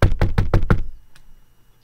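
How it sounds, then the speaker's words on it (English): Five quick, loud knocks on a door in an even rhythm, close and crisp, followed by one faint tap and silence. "Duck knocked on the door."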